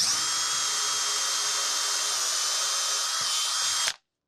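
A power drill boring a hole through Oregon pine wood whines steadily at high pitch for a few seconds, then cuts off abruptly.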